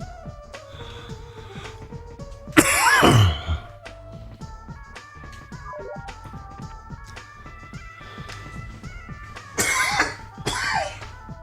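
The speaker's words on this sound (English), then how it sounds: "I think I'm gonna cough my head off" A person coughs in loud harsh bursts, one long fit near the start and two more later, with faint background sounds between them and no talk.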